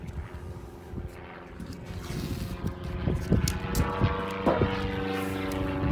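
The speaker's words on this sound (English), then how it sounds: "Sounds like the airplanes are out." Propeller airplanes flying overhead behind a house, a steady droning engine hum lasting throughout and swelling slightly louder toward the end, with faint scattered knocks and outdoor noises over it.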